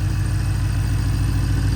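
A brand-new BMW N63 V8 long block idles in an E70 X5 with no exhaust fitted, running straight out of the catalytic converters, giving a steady, loud, low rumbling drone with an even pulse throughout.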